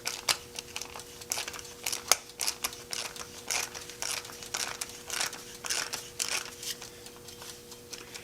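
A wood screw threads into a wooden blank for a homemade woodturning screw chuck, giving a close, dry series of irregular creaking clicks and ratcheting ticks, steady and quiet throughout with no talking.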